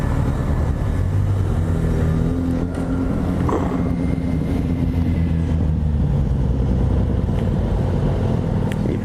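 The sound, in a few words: many motorcycles riding and revving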